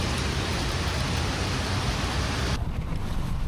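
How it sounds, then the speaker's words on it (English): Steady drizzling rain hisses loudly and evenly during a bicycle ride, with a broad wash of noise that thins abruptly about two-thirds of the way through. "It's drizzling again, but I'm optimistic."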